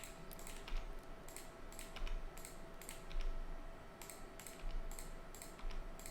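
Computer keyboard keys pressed in short bursts while working in Blender 3D software, quick clusters of clicks repeating every second or so, close and fairly loud, with no talking.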